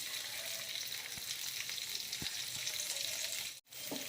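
An egg fries in hot oil with spices and curry leaves while making tomato rice, giving a steady, even sizzle with a few soft clicks and a brief break near the end, and no voices.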